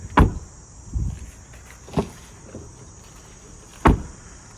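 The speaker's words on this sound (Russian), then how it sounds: "Двери." A Geely Galaxy L7 car door is handled up close, giving four sharp knocks and thuds spaced about a second apart against a quiet background.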